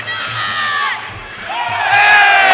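A large crowd roars and cheers wildly at a Bruteforce 19 kickboxing fight in Coburg Town Hall, loud and sustained, with whoops and shouts swelling toward the end.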